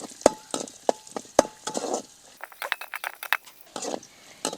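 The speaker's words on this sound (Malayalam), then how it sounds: "അണ്ടിപ്പരിപ്പ് നന്നായിട്ട് പൊരിഞ്ഞു വരട്ടെ." Cashews and raisins frying in ghee, stirred in a pan: sharp metallic clinks and scraping taps from the stirring come irregularly over a soft sizzle, close and fairly loud.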